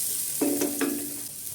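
Finely sliced onions sauté in a pan with a soft, continuous sizzling hiss, plus a short tonal squeak from a utensil partway through.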